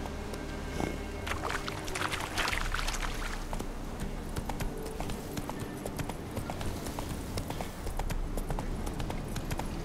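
Roach, Geralt's horse in The Witcher 3: Wild Hunt, with steady hooves clip-clopping close by in a quick, even rhythm over soft outdoor ambience for the whole stretch.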